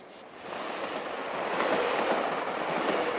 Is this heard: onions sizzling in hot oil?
no